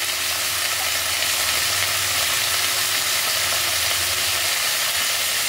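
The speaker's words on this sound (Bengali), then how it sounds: "পেঁয়াজ ক্যাপসিকামগুলো হালকা সতে করা হয়ে গেছে। এবার আমি এর মধ্যে দিয়ে দিচ্ছি কর্ন।" Boiled corn tipped into a pan of lightly sautéed onions and capsicum cooked in very little oil gives a steady, close, loud sizzle and hiss that holds evenly throughout with no voices.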